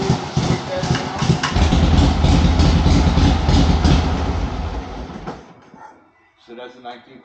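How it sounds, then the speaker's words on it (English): A 1939 Harley-Davidson Knucklehead engine idles with a smooth, steady low rumble and even pulsing, close and loud for about five seconds before cutting out, followed by a quiet stretch with faint talk. "So that's a 1939 knucklehead."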